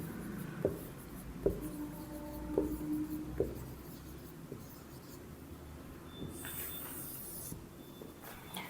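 Debit and credit entries are written by hand, heard as close, dry scratching strokes of a pen or marker with small taps at each stroke, faint and scattered, followed by a brief rubbing swish, with no talking.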